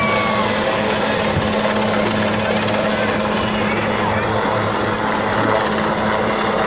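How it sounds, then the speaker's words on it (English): A navy helicopter holding a low hover at an Indian Navy air show, a loud, constant rotor and engine roar close by that masks any other sound. "The aircraft has now come into a low hover."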